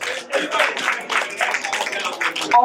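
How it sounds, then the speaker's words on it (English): Audience clapping at a promoters' award dinner, a burst of hand claps with a few crowd voices mixed in, moderately loud and sustained for a few seconds. "Another round of applause for the general."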